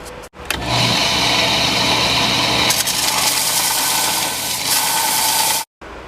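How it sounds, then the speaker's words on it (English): A belt grinder with a sharp belt works a forged one-piece bowie knife blade, giving a loud, sustained abrasive whine that starts abruptly, holds steady for several seconds with slight shifts in pitch, then cuts off. "Now I got a sharp belt on there so I can do this other side a lot quicker."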